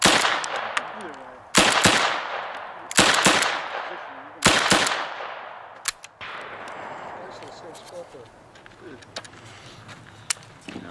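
A USFA Zip22 fires five sharp, loud shots at an outdoor shooting range, each spaced one to two seconds apart with a ringing decay, followed by quieter clinks and faint handling noise.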